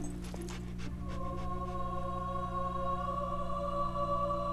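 Dog panting and running in the video game Fable 2, quick rhythmic breaths and soft footfalls over a steady low game music drone, at moderate level with no talking.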